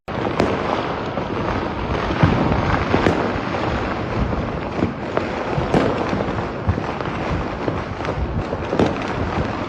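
Firecrackers burst without letup in a crowded street celebration after RCB's IPL win in Bengaluru. Dense crackling runs throughout with sharper individual bangs popping out above the din, loud and near.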